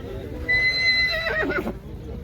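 A full-height horse at a stable with foals nearby lets out a clear, loud whinny lasting about a second, rising and then breaking into shaky pulses over a low background hum.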